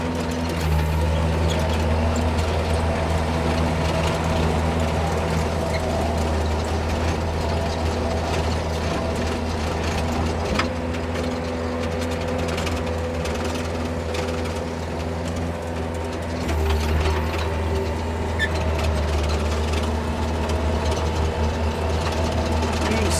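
A 1999 Bobcat 331 mini excavator on rubber tracks drives while swinging its house, with a loud, steady engine drone, a mechanical hydraulic whir and faint rattling throughout.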